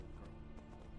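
Horse hooves galloping in Skyrim, a steady run of clip-clop beats under a continuous rumbling layer, with occasional brighter hoof impacts standing out.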